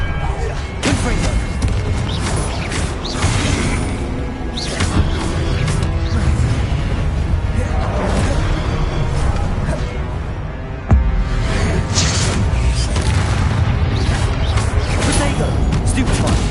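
Confringo fire spells blast repeatedly during spell-casting combat in Hogwarts Legacy. Loud explosive booms and whooshes tumble over one another amid dense game noise, with voices heard throughout.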